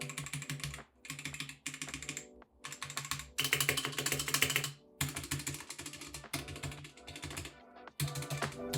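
Bursts of fast clacking keystrokes on an inexpensive mechanical keyboard, typed in short runs separated by brief pauses, close and clear with no talking.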